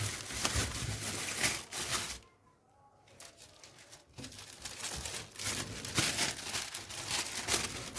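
Plastic bags crinkling and rustling close up as salted fish (fesikh, mullet) is wrapped and packed, with busy crackling that drops away briefly and then resumes at a similar level.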